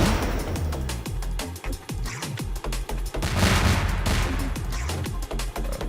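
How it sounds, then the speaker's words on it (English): Rapid bursts of auto-firing missiles and explosions in the Sega shooter Warhead Circus, a dense, continuous volley of loud gunfire-like blasts and booms with no talking. "Ooh, auto-firing missiles."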